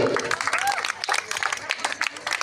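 Clapping breaks out among a crowd at a village temple auction during Ganesh puja in Indalwai, a short burst of scattered hand claps mixed with loud talk from people nearby.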